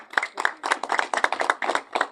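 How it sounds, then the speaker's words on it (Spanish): Audience applause at a talk on the Bolivian community in Argentina, heard as close, uneven bursts of hand clapping that rise and fall in waves for about two seconds. "Un fuerte aplauso a mi amigo, el pelado, Radio Ucaya."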